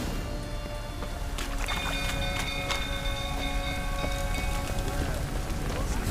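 Steady rain falling in The Witcher 3 video game, a constant hiss of drops spread evenly across the clip, with faint tonal game sounds and scattered brief clatters over it.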